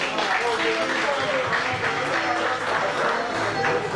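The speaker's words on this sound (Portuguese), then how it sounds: "Salva de palmas, por favor." Sustained applause from a crowd at a political gathering in Kazenga, Angola, a steady dense clapping that holds at an even level throughout, with voices murmuring underneath.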